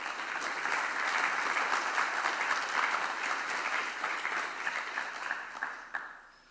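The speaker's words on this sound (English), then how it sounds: "So let us give a round of applause for our speaker and welcome him to the stage." Conference audience at JuliaCon welcoming a speaker to the main stage with applause, a steady, moderately loud roomful of clapping that thins and fades out over its final seconds.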